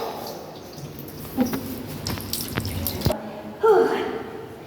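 Drinking water running and dripping from a pipe tap, scattered splashes and drips interrupted by a sharp clatter, with voices talking over it.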